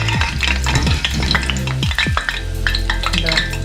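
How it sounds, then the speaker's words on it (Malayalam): Crispy parippu vada, lentil fritters, frying in hot oil in a Thattukada-style kitchen, a steady loud sizzle with intermittent scraping and stirring clatters throughout. "ഇതുപോലെ ഇനി ബാക്കി എല്ലാ വടകളും നമുക്ക് വറുത്ത് കോരിയെടുക്കാം."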